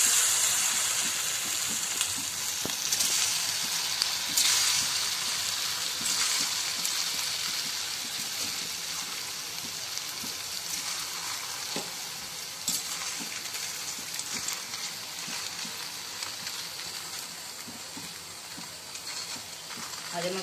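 Rava balls drop into hot oil and fry with a dense, continuous sizzle and crackle that stays close and steady for the whole stretch, loudest at the start and gently easing over time.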